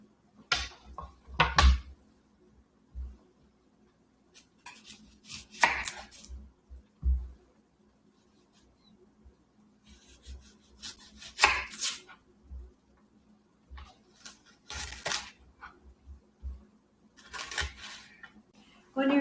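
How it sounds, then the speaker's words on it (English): A knife chops a small onion on a cutting board in scattered bursts of sharp, close taps separated by quiet gaps, with some talking at times. "while that's browning, we're going to chop 1 small onion"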